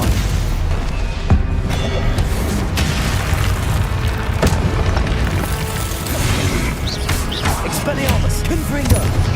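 Spell-casting combat in Hogwarts Legacy, with continuous loud booms, crackling impacts and bursts of magical effects, with voiced shouts heard over the fighting.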